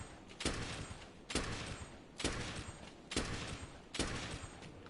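Bowgun firing in Monster Hunter: World, five evenly spaced heavy booming shots, each followed by a short rumbling tail.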